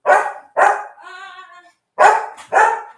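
A small dog barks close by on a farm in the Philippines: two sharp barks, a short whining yelp, then two more barks after a brief pause, with no talking.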